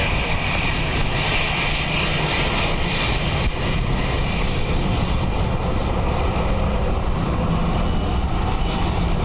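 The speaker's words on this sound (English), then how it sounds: "ATR inbound from Edinburgh." ATR turboprop airliner flying at Dublin Airport on a windy day, a steady, loud, broad engine roar that carries through the whole stretch with no change in level.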